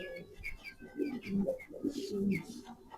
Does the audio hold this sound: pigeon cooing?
yes